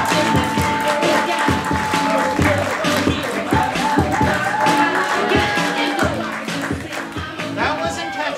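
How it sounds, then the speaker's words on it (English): An audience at a long-form improv comedy show keeps up dense, continuous applause. Loud, sustained clapping mixes with crowd noise, a tonal sound and some voices talking over it. "Please continue the awesome applause for everyone"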